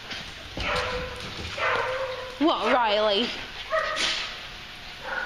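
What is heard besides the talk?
dogs barking at doggy daycamp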